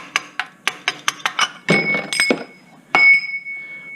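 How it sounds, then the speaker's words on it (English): A wrench taps a part during a tune-up on a 2005–2011 Hyundai Accent, giving a quick run of sharp metallic clinks followed by two louder ringing strikes that sustain a bright tone, close and clear. "give it a little bit of a tap with a wrench"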